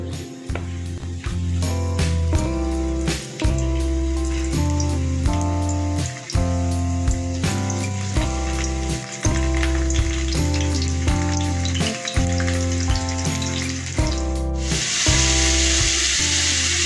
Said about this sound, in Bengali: এবার আমি ওই তেলেই কয়েক টুকরো আলু ভেজে নিচ্ছি।